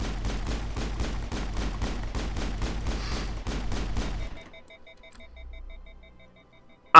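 Rapid gunfire from the video game Mass Effect, a dense run of repeated shots in quick rhythm for about four seconds, then cutting off to quiet electronic tones and a faint low rumble before a sharp final click.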